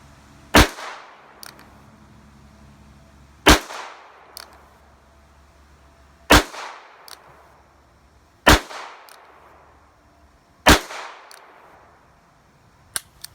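Five loud revolver shots fired at a target, spaced about two to three seconds apart, each a sharp crack with a brief ringing echo, followed by a faint metallic click.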